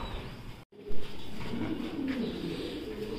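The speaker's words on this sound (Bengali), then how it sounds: "তো ভাইয়ের এখানে বর্তমানে কি কি কবুতর আছে" Pigeons at a pigeon center in Natore coo softly in the background, steady low murmuring from a loft, with a brief thump partway through and no speech.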